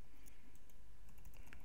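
Quiet computer keyboard keys are tapped in a short, uneven run of soft clicks, with arrow keys nudged repeatedly while laying out a design in Photoshop. No one speaks.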